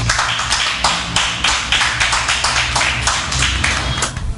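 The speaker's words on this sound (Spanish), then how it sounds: "Denle un aplauso fuerte al Señor" Church congregation clapping loudly during a Spanish-language sermon, a rhythmic, fairly close run of claps with steady beat and no talking over it.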